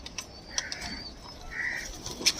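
Giribaz pigeons give soft coos with a brief flutter of wings, close by and moderately quiet, with faint chirps and background noise.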